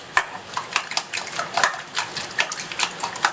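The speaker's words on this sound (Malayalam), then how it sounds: "ഇനി ഇതിലേക്ക് നമുക്ക് പാലൊഴിച്ച് നന്നായിട്ടൊന്ന് മിക്സ് ചെയ്യാം." Egg mixture with milk being whisked in a bowl, a quick rhythmic series of light clinks and taps from the whisk against the bowl, close and fairly loud.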